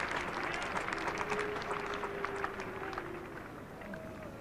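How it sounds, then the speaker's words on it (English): A cricket crowd at an Ashes Test in 1981 applauds Australia's first innings lead, a faint, distant patter of clapping that fades gradually over several seconds. "so the applause for the first innings lead here for Australia"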